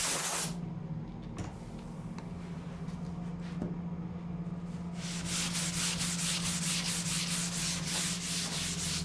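A sanding block is worked over a surfboard in a shaping bay. Soft steady rubbing gives way, after a few seconds, to loud, rhythmic back-and-forth scraping strokes over a constant low hum.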